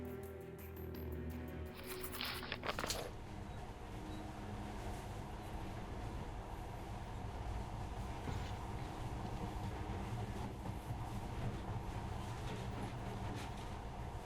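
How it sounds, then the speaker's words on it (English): Monorail train ride in the game Metro: Last Light, a continuous rumbling rail roll with a steady rhythmic clatter, preceded by a brief mechanical clank near the start. "this monorail seems magic, doesn't it?"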